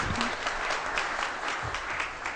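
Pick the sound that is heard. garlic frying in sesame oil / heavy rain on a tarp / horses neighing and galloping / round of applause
round of applause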